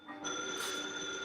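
A telephone bell rings continuously for over a second, a bright sustained metallic trill standing out loud and alone, as in a 1950s horror film soundtrack.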